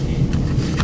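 A car close behind the person, its steady low engine rumble running continuously through a brief moment with no talk.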